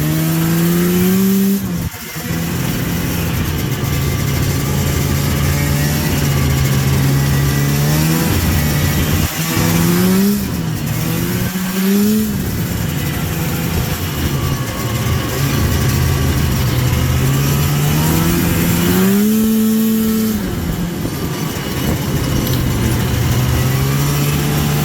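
A 1991 Arctic Cat Lynx 340 single-carb snowmobile running in a yard, its two-stroke engine droning steadily with repeated throttle blips that rise and fall in pitch, loud and close throughout.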